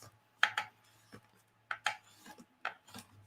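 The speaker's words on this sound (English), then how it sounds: "I'm going to score it all those same 1/4 inch lines." Wrapping paper is scored along quarter-inch lines, giving short scratchy strokes in small pairs with quiet gaps between them, close and soft.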